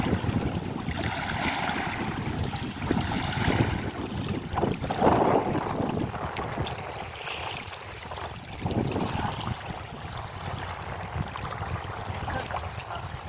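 Swirling rapids of the Kodak (Kodatskyi) rapids on the Dnipro, with the speaker standing knee-deep in the water: a continuous rushing, churning water roar, loud and close, holding steady with surges throughout.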